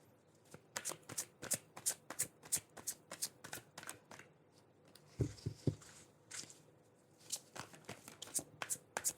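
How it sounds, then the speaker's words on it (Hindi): A deck of tarot cards is shuffled by hand, close and quiet, with rapid repeated riffling snaps in a steady rhythm, briefly interrupted by a soft thud before the shuffling resumes. "एक बार मैं और शफल करूंगी"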